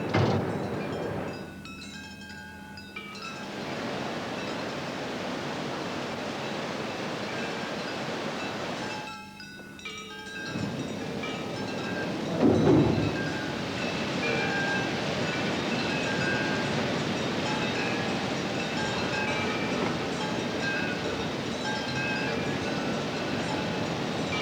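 At the Ferrybridge power station, a tippler lifts a 170-ton coal wagon 40 feet up and tips it into giant hoppers, giving a loud continuous rumbling roar with mechanical clanks and surges, heard alone with no talk.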